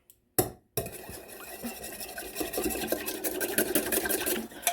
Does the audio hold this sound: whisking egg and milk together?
yes